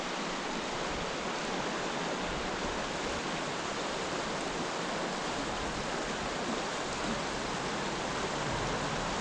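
Flowing water of a small creek, swollen after overnight rain, gives a steady, even rush that stays constant and fairly faint with no other sounds.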